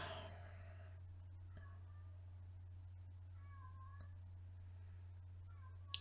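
Pixel, a house cat, meows a few times indoors, soft drawn-out calls over a steady low electrical hum, fairly faint and otherwise quiet.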